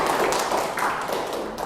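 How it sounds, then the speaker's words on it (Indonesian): A classroom audience of students claps briefly at a lecture, a quick burst of light, overlapping hand claps at moderate volume that fades within about two seconds. "Tepuk tangan dong."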